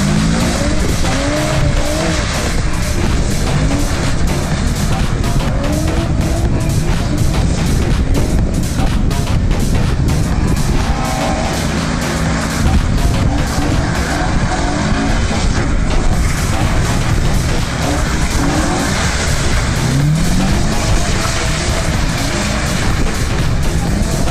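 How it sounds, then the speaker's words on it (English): Nissan drift cars with welded differentials sliding around a track, loud continuous engine roar and repeated tire squeal throughout, no talking. "they all had welded diffs to make drifting easier"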